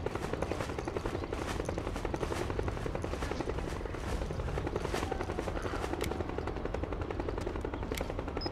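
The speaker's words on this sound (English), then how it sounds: "The helicopter won't see me." A helicopter in the video game Metal Gear Solid 4 roars with a loud, continuous rapid rotor chop, dense and steady throughout, mixed with sharp crackling bursts like gunfire.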